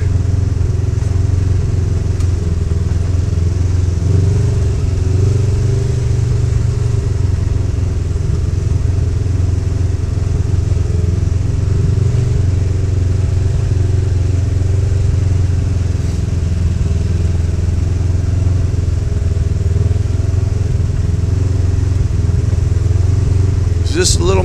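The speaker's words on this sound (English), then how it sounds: "Just a little mud crawler is all it is. It just crawls right through this stuff." A small off-road mud crawler grinding through deep mud at an off-road park, its engine droning steadily and loudly for the whole stretch, while a rider talks over it.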